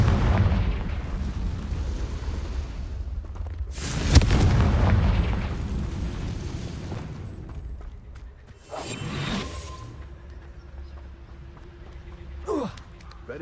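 A Confringo spell explosion in the video game Hogwarts Legacy bursts with a loud boom and rushing whoosh over a rumbling game background, followed by fainter swishes and a brief later hit.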